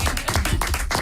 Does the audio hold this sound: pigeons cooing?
no